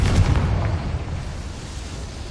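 A Confringo fire spell explodes in the video game Hogwarts Legacy: a loud, low boom bursts at the start, then fades into a rumbling tail that lingers to the end.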